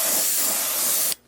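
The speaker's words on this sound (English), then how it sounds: "I'm going to just spray this brown here" An airbrush sprays brown paint onto a fishing lure in a steady close hiss that holds for about a second, then cuts off abruptly.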